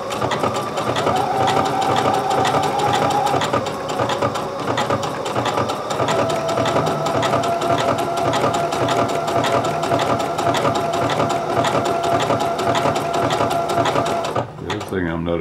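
A sewing machine stitches shorts fabric in a long, continuous, loud mechanical whir with rapid needle clatter, stopping abruptly near the end.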